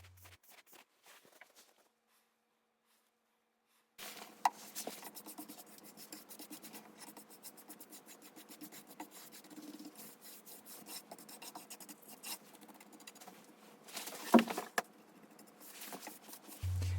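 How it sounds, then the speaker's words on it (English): Brush strokes and rag wipes as a paint wash goes onto a wooden dresser and comes straight off, soft scratchy rasping in quick irregular passes, faint and close, after a few seconds of near silence. "brushing it on, then immediately wiping it off"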